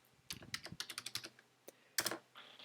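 Typing on a computer keyboard, a quick run of close, crisp key clicks followed by a short pause and a few more taps.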